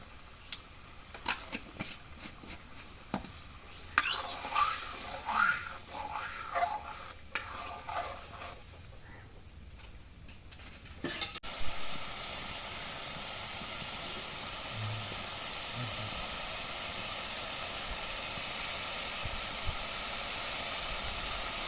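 Spice masala for hilsa fish being stir-fried, with scraping spoon strokes and crackling over a sizzle at first, then a continuous loud hiss of frying that fills the second half.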